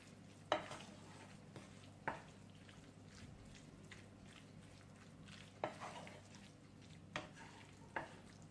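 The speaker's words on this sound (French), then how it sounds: "Et je mélange." A spoon stirs a tuna and pepper filling in a pan, giving soft scraping and a faint sizzle with a few sharp clinks against the pan, close and quiet.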